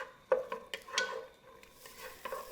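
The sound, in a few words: onions sautéing in a pot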